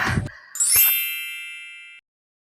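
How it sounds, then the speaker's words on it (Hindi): A phone's bright electronic ding rings out after a short burst of noise, its tone sustaining for over a second before cutting off cleanly. "अरे मोर भाई फोन आ गया"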